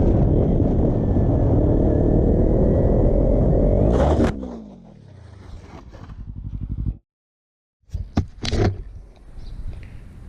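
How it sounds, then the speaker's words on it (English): A motorcycle engine roars loud and sustained as the rider over-applies throttle through a curve in difficult conditions, then the revs drop away, followed by a sharp gap and scattered thuds and scraping noises. "the biker is adding too much throttle on a curve"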